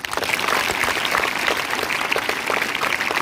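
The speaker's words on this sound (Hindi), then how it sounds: "तालियां उसके लिए।" Steady audience applause fills a school hall during a motivational talk, dense continuous clapping throughout with no voice over it.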